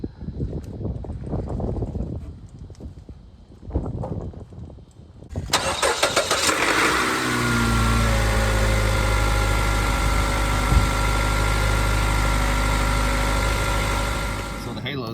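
A 2018 Toyota Yaris iA engine with a jump starter attached cranks, catches and settles into a steady idle, loud and close, after a stretch of quieter handling noises with a voice speaking early on.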